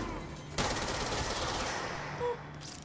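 Gunfire from a weapon in the video game Control comes as a loud burst of rapid shots that starts abruptly and then trails into a decaying wash of echo, with no voice over it.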